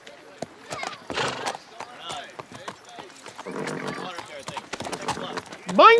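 A horse ridden along a mountain trail in a 1994 period drama, its hooves clip-clopping unevenly with a short neigh near the end, amid the busy noise of a travelling party.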